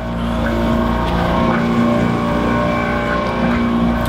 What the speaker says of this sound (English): We got the engine on.